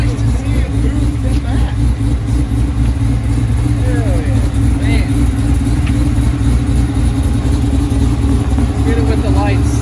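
An LT5-swapped 1994 Chevrolet Silverado with a lumpy cam and loud exhaust rumbles and revs steadily up close throughout, with people talking over the engine note.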